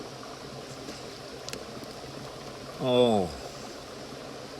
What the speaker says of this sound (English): I'm sitting in the middle of the creek.